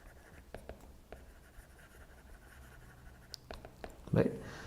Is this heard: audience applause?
no